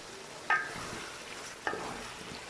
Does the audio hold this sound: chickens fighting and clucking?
no